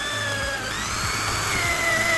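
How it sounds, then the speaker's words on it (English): A power drill boring holes through a printed template into a combat robot's top plate, a steady close whine with short bursts as the bit bites. "I drilled those holes myself using these templates that I printed."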